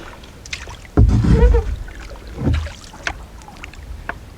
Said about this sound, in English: I'm going to paddle home